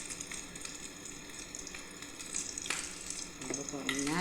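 Egg and flour mixture frying in cooking oil, a close, continuous sizzle and crackle with occasional utensil scrapes, growing slightly louder toward the end, no talk.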